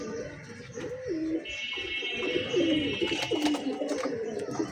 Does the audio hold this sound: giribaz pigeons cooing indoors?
yes